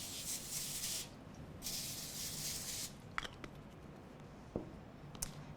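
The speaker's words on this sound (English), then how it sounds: "you're going to spray your 2 baking sheets once they are aligned with tin foil" Cooking spray hisses in several bursts onto two foil-lined baking sheets, fairly faint, followed by soft handling clicks and taps of the pans.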